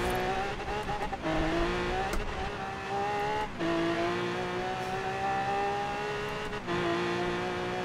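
A car accelerates at full throttle downhill in the racing game Forza Horizon 3, its engine whine climbing in pitch through several gear shifts, loud and continuous.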